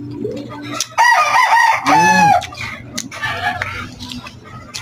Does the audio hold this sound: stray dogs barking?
no